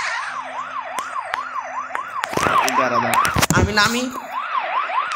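A police car siren in the mobile game Rope Hero: Vice Town 2 wails in steady, repeating up-and-down sweeps across the whole stretch, while a voice speaks briefly and sharp game effects burst out midway.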